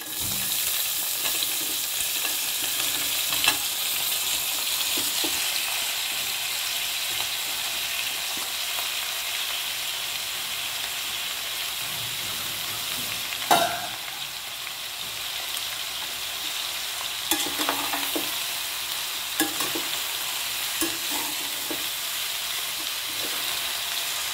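Vegetables stir-fry with sweet potatoes in a hot pan, giving a steady broad sizzle throughout with occasional scraping knocks and clatters from stirring.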